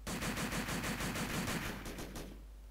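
Rapid automatic gunfire, including an MP40, fills an online team deathmatch in Call of Duty: World at War on the Nintendo DS. The burst rattles loud and continuous, then cuts off near the end.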